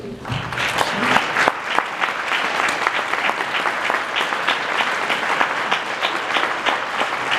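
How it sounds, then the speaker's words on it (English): Steady applause from a crowd, dense clapping sustained at an even level throughout without letting up. "let's give them a round of applause, please"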